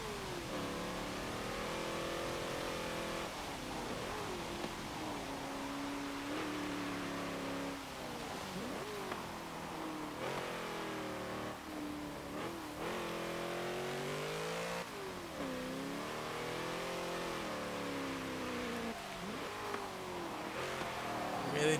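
A 2010 Ford Crown Victoria Police Interceptor V8 in the Forza racing game, engine revving up and down through repeated gear changes and throttle lifts, loud and continuous for over twenty seconds with no talking.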